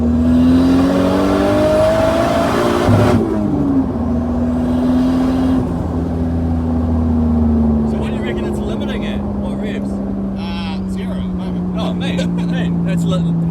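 A Nissan S15 Silvia widebody with an RB25DET engine revs hard and close, its pitch climbing and then sliding down as the wastegate chatters and flutters in bursts on lift-off, with occasional voices under the engine noise.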